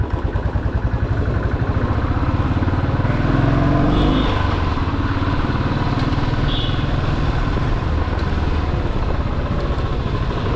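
A 2018 Royal Enfield Thunderbird 350 single-cylinder motorcycle rides through city streets, its thumping exhaust loud and steady throughout, with brief high tones from passing traffic.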